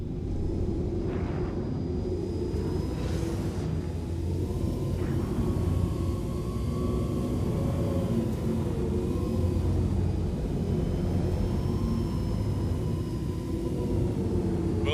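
A video game aircraft afterburner roaring as a continuous low rumble with faint whining tones above it, steady and loud for the whole stretch, no talk.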